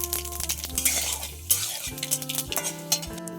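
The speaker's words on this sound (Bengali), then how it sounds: "তেল গরম হয়ে গিয়েছে, ফোড়নে দিয়ে দেবো তেজপাতা আর একটা শুকনো লঙ্কা।" Bay leaf and a dried red chilli, then five-spice, sizzle in hot oil for a vegetarian cabbage dish, with a spoon scraping and clinking against the pan in quick irregular strokes close by.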